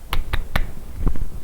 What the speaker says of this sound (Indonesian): Oke, kita tepuk semangat ya.